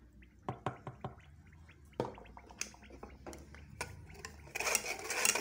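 Soft clinks and scrapes of a hand whisk stirring milk in a pot, repeated irregularly, ending in a brief burst of louder scraping noise.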